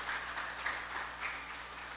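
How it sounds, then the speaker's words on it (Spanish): Applause from a church congregation during a Resurrection Day service, a steady, even wash of clapping filling the room for the whole stretch without pause. "Den un aplauso fuerte al Señor"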